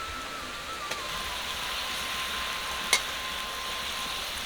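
Fresh nundi fish goes into a pan of frying spiced masala, giving a steady, even sizzle throughout with one brief sharper crackle partway through.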